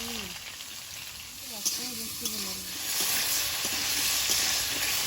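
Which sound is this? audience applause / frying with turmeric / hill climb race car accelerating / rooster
frying with turmeric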